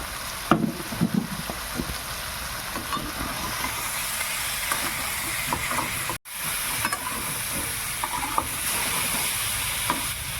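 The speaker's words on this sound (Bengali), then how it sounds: "মাংসটা হালকা ভাজা হয়ে গেছে" Chicken pieces fry in a pan and are stirred steadily, a continuous sizzle and hiss running alongside scraping and clinking of the spoon, close by and with no voices.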